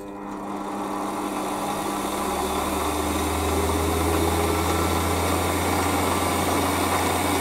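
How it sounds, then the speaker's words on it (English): A lathe spins soft plastic held tight in its chuck at high speed in low gear, giving a steady, loud motor whine and hum that swells slightly after the first couple of seconds and then holds constant. "I'm actually in low gear on this lathe at the moment."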